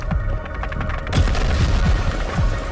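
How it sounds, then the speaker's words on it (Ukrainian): A bomb detonating in the video game Ink Game, heard as a loud burst of noise that thickens and lingers for over a second amid repeated low thuds. "она взорвалась"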